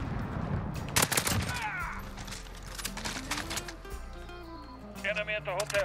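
Gunfire in the video game Modern Warfare, with sharp bursts of shots and scattered impacts over a bed of game music and effects, with a player talking over it.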